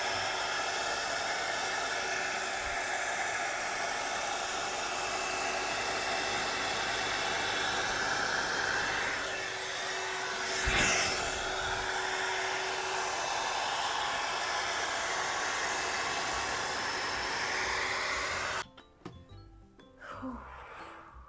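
A hair dryer blows steadily during a blow-dry, a continuous close whooshing hum with a small swell near the middle before it cuts off and leaves quiet handling noises.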